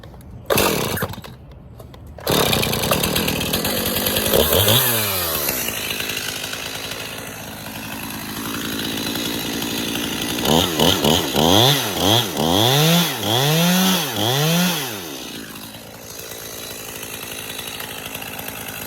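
A Stihl MS271 chainsaw bucking a large white oak log, loud and close, revs steadily through the cut with repeated rising and falling bursts of throttle as the chain bites the wood.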